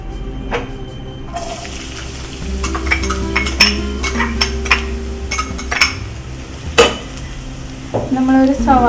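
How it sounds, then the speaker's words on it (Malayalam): One chopped onion tossed into a small amount of hot oil for beef vindaloo, giving a close, steady sizzle with scraping stirs and clinks of a spoon against the pan. "നമ്മളൊരു സവാള ചോപ്പ് ചെയ്തത് ചേർത്തു."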